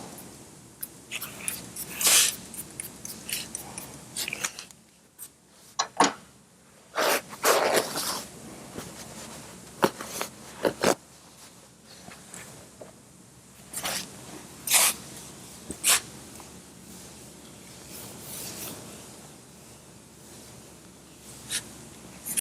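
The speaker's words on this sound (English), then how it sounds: "So I'm going to go ahead and spray this down and get this clean." Alcohol is spritzed from an Eastwood spray bottle onto a car body panel during glue-tab hail dent repair, with several short hissing bursts separated by quiet pauses and faint handling noises.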